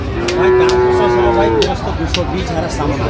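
Sahiwal bull lowing once at a cattle market in Dinajpur, a long, steady, near moo lasting over a second, followed by a noisy crowd murmur.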